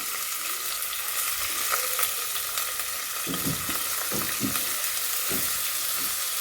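Green chillies and then onions hit hot oil, giving a constant loud sizzle and frying hiss. Sharp spits and bursts of crackle come in the second half as the pieces drop into the pan.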